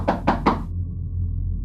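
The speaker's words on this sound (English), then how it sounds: "when a knock came at my window." Three quick, sharp knocks rap against a home window late at night, close and distinct, followed by a quiet room hum with no voices.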